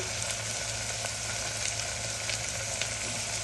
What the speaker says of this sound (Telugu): ఇవి కూడా కొంచెం ఫ్రై చేసుకుందాం